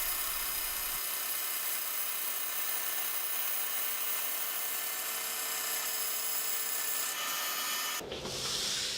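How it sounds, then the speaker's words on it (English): Bandsaw slowly slicing a thin wood veneer on an Accu Sled II carriage, a steady high whining buzz with a constant drone, close and continuous, changing abruptly near the end as the cut finishes. "By cutting slowly, you're actually using the bandsaw blade like a planer."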